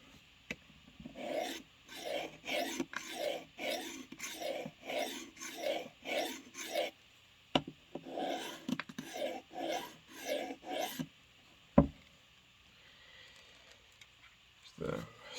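A knife blade is drawn across the rougher side of a sharpener in about a dozen evenly paced rasping strokes, close and clear, followed by a few sharp knocks.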